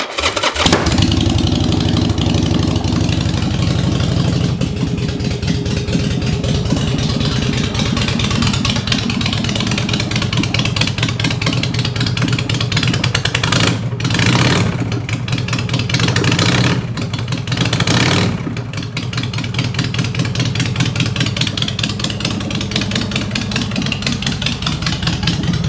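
A 2002 Harley Davidson XL1200 bobber started with the choke out, the engine catching at once and then running loud and close with a thumping idle and occasional revs.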